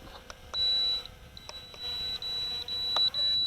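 An Eachine 3D X4 drone emits a string of short, thin electronic beeps, some brief and some held longer, quiet over a soft background hiss.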